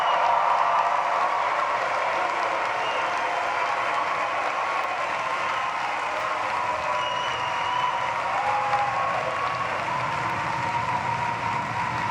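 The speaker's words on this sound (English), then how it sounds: "So congratulations to our graduates. Give them a big round of applause." Steady, dense applause from a large audience fills the hall at a law school commencement ceremony, cheering the new graduates, continuous and even throughout with a broad crowd wash and no clear talk over it.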